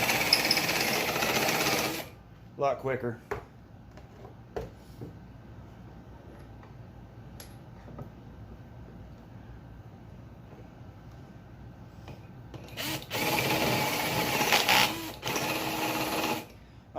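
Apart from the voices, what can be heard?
drill with step drill bit deburring small engine intake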